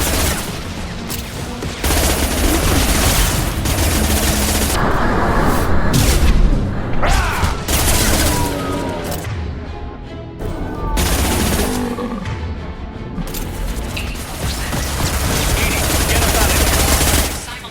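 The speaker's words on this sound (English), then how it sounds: "Heavy weapons. Heavy fire." Heavy weapons gunfire in a Mass Effect 2 battle aboard the Collector ship, with dense rapid automatic bursts and booming blasts running nearly the whole time, loud and continuous over a layered combat soundscape.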